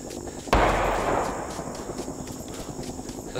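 A single sharp gunshot bursts out in a Vietnam War shooter match in Rising Storm 2, followed by a decaying rumble and quieter ambient battlefield noise.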